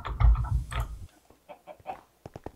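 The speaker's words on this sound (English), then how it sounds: "Chick, chick, chick, chick, chicken." Chickens in the Better Than Wolves Minecraft mod give several short, rapid clucks near the end, after a loud low rumble and some scattered game noises at the start.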